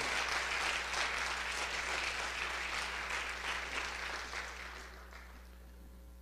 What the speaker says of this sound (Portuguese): Dá uma salva de palmas ao Senhor para você articular os braços aí e celebrar ao Senhor.